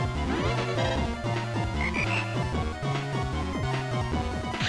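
A frog croaks in the game Mega Man Battle Network 5 during a fight with the Toad Man boss, with repeated bursts of croaking over busy game music and sound effects, loud and continuous.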